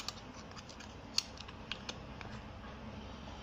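A battery goes into an EC 770 coating thickness gauge (DFT meter), heard as faint plastic clicks and small creaks with one sharper snap, quiet and close over a low background hum, no talking.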